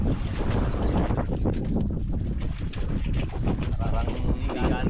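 Strong wind by the sea roars and buffets the microphone continuously, a heavy rumbling gust that never lets up, with a voice faintly underneath.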